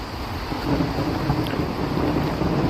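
Low, continuous rumbling thunder in London, UK, with steady rain hiss throughout, fairly loud and without pauses.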